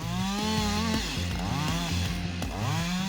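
A chainsaw roars loudly and steadily while felling two large trees at once, its engine pitch dipping and rising repeatedly as the bar bites through the wood.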